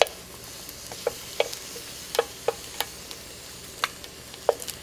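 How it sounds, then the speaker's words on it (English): Tomatillos and other salsa verde ingredients roast in a hot pan, a low steady sizzle broken by about a dozen sharp clicks and taps as pieces are turned, fairly quiet and with no talking. "I'm gonna start just turning our tomatillo and the rest of our ingredients, just so that we can get a good roast all around"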